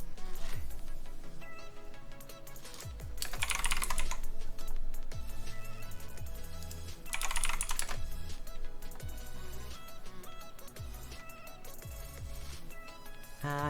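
Relentless clicking of a computer keyboard during a coding stream, with rapid typing bursts and a few louder hissy clatters over a steady background.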